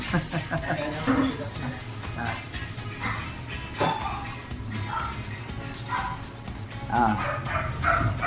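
Small dog yips and barks in short bursts, mixed with whimpering, while a person talks over it nearby.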